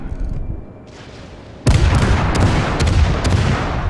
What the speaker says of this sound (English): he is firing HE at me instead of shooting at the battleship